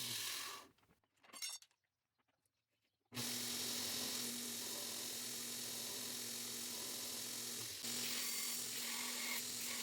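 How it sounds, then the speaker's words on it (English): Belt grinder's contact wheel grinding the top of a handle block for a forged Damascus bowie knife, a loud steady abrasive hiss and whine that starts abruptly after a few seconds of quiet clinks and runs on continuously. "I ground the top of it using the contact wheel on the grinder"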